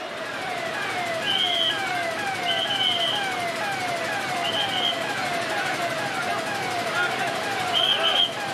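Fire brigade vehicle sirens wail in repeated rising and falling sweeps, loud and continuous, with a higher piercing tone recurring every second or so, at the scene of a major fire with several engines arriving.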